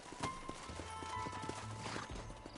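Horse hooves clop in an uneven rhythm at moderate distance in the video game Red Dead Redemption, with a low rumbling background and no clear speech.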